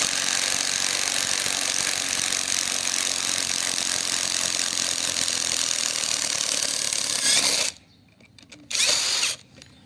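A VVOSAI cordless impact driver unscrews a screw, running loud and steady for several seconds before stopping, then firing one more short burst.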